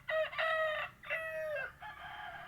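A rooster crows twice in long, loud harmonic calls, followed by a shorter third crow, close by with no talking.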